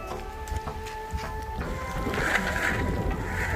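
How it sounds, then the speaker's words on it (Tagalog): Wind from a snow storm in Saskatchewan, Canada, roars steadily with low gusty buffeting against the microphone, a faint tonal whine in the first half and a stronger rushing gust toward the end. "As you can see, it's not that cold, but it's just windy."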